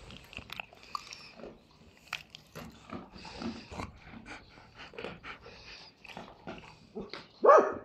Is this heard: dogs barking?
yes